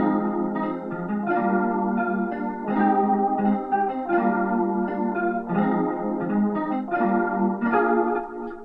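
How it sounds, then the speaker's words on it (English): A jazz guitar patch from Omnisphere layers over an electric piano, both playing the same sustained chord progression in repeating rhythmic stabs, full and even in level with a light chorus shimmer and no talking. "So with the guitar and the electric piano together,"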